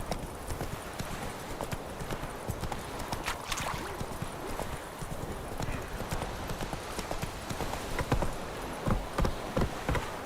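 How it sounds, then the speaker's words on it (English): Hoofbeats of the horse Roach galloping in The Witcher 3, a steady rapid clip-clop running throughout over game ambience, with a brief whinny-like accent and no speech. "Run, Roach."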